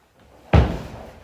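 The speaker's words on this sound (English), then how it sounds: "just listen out as my left foot slams the ground on the last step" A single heavy foot slam hits the ground on the last step before a flying side kick takeoff, one loud close thud with a short decay and no talking.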